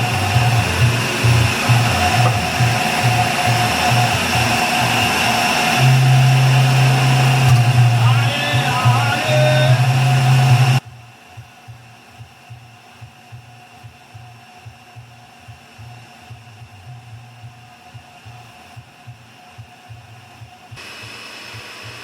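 A kitchen blender or mixer purées food with coriander, running as a loud steady whirring drone with a pulsing low rhythm for about ten seconds, then cutting off abruptly to leave faint rhythmic thumps and room noise.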